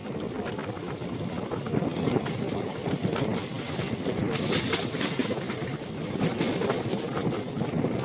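An empty goods train rumbles steadily along the rails while overtaking another train, with dense clattering wheel noise and wind buffeting heard up close throughout, with no pause.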